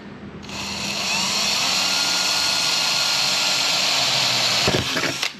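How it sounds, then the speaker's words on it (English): A power drill whines loudly and continuously at high speed, then winds down near the end with a few short rattles. "Let's just drill 4 of them in case I need to move around a little bit."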